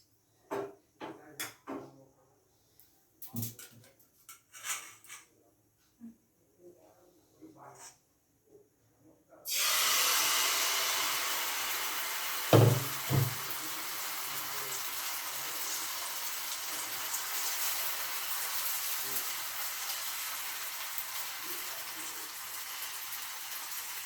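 Oats batter hits an oil-brushed frying pan and settles into a steady, fairly loud sizzle, with a few sharp knocks and clatters from the pan before and early on.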